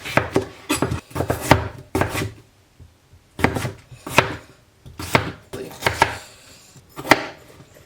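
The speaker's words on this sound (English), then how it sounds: "So I just got the potatoes cut." A knife chops potatoes on a board, close and crisp, in steady clusters of quick strokes with brief pauses, and no talking.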